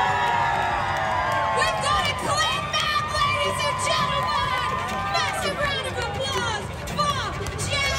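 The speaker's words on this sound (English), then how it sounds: "Massive round of applause!" A crowd at the GABS craft beer festival in Australia cheers, whoops and shouts loudly and without a break, with voices mixed through the noise.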